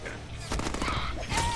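Rapid gunfire from the Deadpool video game, a dense burst of shots layered over game effects with someone talking throughout.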